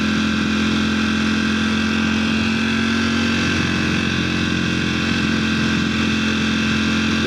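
A motorcycle engine idles steadily while warming up, a loud, close, even mechanical drone with a constant hum and slight rough texture, running alone without talk.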